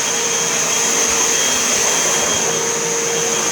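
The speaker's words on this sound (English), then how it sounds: "So now you can vacuum the bare floor." Hoover vacuum cleaner running steadily on a bare floor with its brush roll switched off, a continuous loud motor whine and airflow hiss holding constant throughout with no talking.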